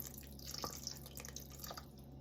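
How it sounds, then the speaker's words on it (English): Starchy pasta water is poured into pureed butternut squash and broth, giving soft, faint drips and trickles close by, without talk. "The next thing that's going in is our pasta water."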